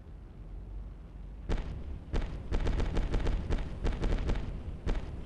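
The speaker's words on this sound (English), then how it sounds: "You can hear a tiny rocket exploding while it burns in the atmosphere." Small rocket burning up and exploding during atmospheric reentry in the Spaceflight Simulator game: a low rumble is broken by a rapid run of loud, crackling bursts and pops that continue to the end.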